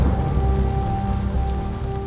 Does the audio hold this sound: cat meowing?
no